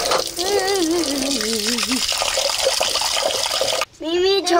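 Water splashes and runs while something is being washed at a family camp over the New Year, with a child's and an adult's voices talking over it and a brief pause before the flow resumes.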